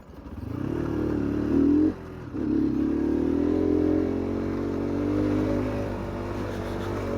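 A motorcycle rides along a broken, rough rural road past fish farms, its engine holding a steady low drone that briefly dips and then surges again, close and continuous with faint rattles and no talk.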